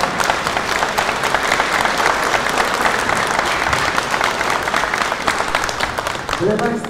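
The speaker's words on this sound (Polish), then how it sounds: "Wielkie, wielkie brawa!" A crowd at the official anniversary ceremony of a sports club claps loudly and continuously for an honoured guest. The dense applause holds steady for several seconds before a voice begins speaking at the very end.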